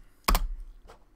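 Two computer keyboard keystrokes, a firm near click and then a softer one, like pressing enter in a console, in an otherwise quiet room.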